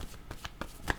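Tarot cards being shuffled up close give a quick run of soft papery riffles, faint and brief.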